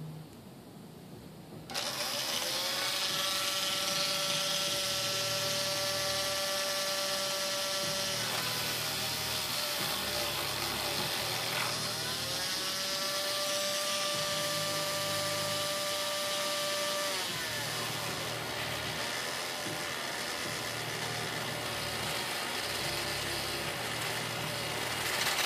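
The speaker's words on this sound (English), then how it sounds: "We're going to dive it right into here, and we're going to see if we can't cut those treads a little deeper." A rotary cutting disc grinds into the treads of RC foam tires, starting abruptly with a loud high whine that rises and falls in pitch over repeated passes, over a steady motor drone.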